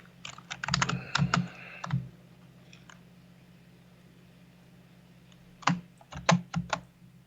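Bursts of fast typing on a computer keyboard with a spongy space bar, close and clicky, in two clusters separated by a quiet pause over a faint steady hum.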